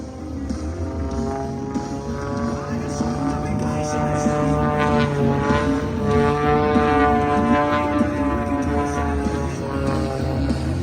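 A Zivco Edge 540 aerobatic plane's engine drones steadily, its pitch sliding up and down as it maneuvers through rolls at an air show in Sacramento, California, with a voice talking over it throughout.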